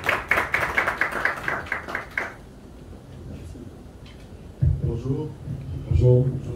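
An audience claps rhythmically to welcome an ambassador at an event, a loud burst of quick claps for about two seconds that then stops abruptly, followed by quieter room noise and a voice speaking.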